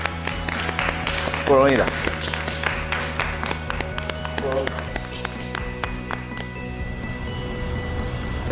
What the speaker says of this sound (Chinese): 为大家鼓掌